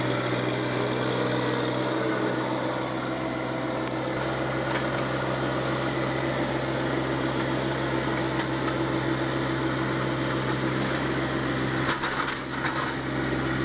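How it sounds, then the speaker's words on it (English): A John Deere 1025R compact tractor, differential lock engaged, climbs a steep hill with a steady, continuous engine drone and rattle, close and fairly loud with no voices. "I'm using the differential lock there, and the tractor's climbing up the hill pretty good"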